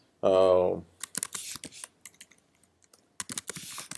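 Rapid keys clatter on a computer keyboard as a tagline is typed into an online store page, with irregular bursts of crisp clicks and pauses following a short voice at the start.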